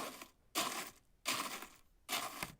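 Footsteps crunch on gravel in a surface-material sound effect, three slow, broad gritty crunches that each last about half a second, moderately quiet with no other sounds.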